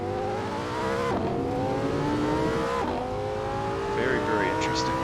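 Lamborghini Sesto Elemento engine in Assetto Corsa, a high, rising engine note climbing through the gears with sharp drops at each upshift, tire squeal near the end, and a voice talking over it.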